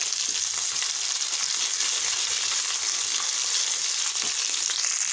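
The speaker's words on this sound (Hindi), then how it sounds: "इसी ऑयल के अंदर मैंने 1 टेबल स्पून अदरक लहसुन का पेस्ट डाल दिया है, इसको मैं फ्राई कर लूँगी।" Ginger garlic paste and cumin seeds fry in hot oil in a pan, giving a loud, steady, close sizzle that stays even throughout with no voices.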